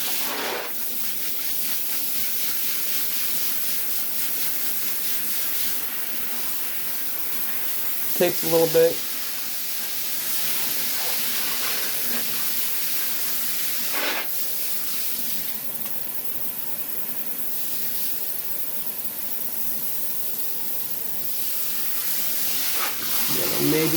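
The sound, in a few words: sprayer spraying water to clean a bathtub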